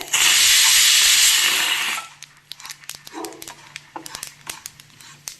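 Sesame seeds roasting in a pan give a loud, dense hiss and crackle for about two seconds, then fade to scattered sharp pops and small clicks as the sizzle dies away.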